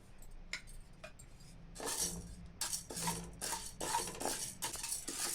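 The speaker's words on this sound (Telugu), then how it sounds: "ఇప్పుడు మనం పాయసం చేసుకోవాలంటే పాన్ పెట్టి అరకప్పు బార్లీని దోరగా వేయించుకోవాలి." Half a cup of barley roasts dry in a pan while a spoon stirs it, making repeated quiet scraping and metallic clinks at close range.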